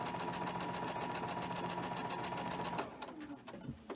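A sewing machine with a size 12 needle stitches cotton fabric at a 2.5 stitch length, humming and whirring in a steady rapid rhythm, close and quiet, then stops near the end and leaves a few small handling clicks.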